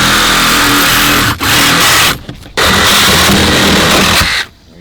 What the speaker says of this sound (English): so that's a Sawzall job.